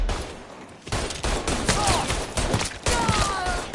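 A loud, close fusillade of gunfire in the video game Mafia 3 comes in repeated bursts with brief gaps, clattering shots stacked over one another amid chaotic combat noise.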